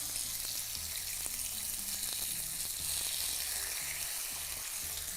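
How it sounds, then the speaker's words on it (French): Chicken breasts sear in a very hot pan, giving a loud, constant hissing sizzle close by with occasional faint clicks, and no voices. "faire cuire nos poitrines de poulet. Et après, on va mélanger le riz"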